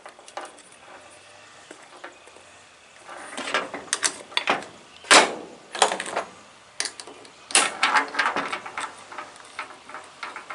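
Hand ratchet working the small bolts on the Bendix cover of a 1979 Ford F150 starter, giving bursts of quick close clicking and metal handling with short pauses between, no talking.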